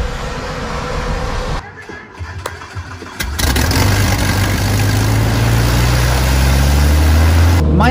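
A small propeller aircraft engine cranks and catches after a brief lull, then settles into a loud, steady close-up drone with rising propeller hum, on an aerobatic training plane.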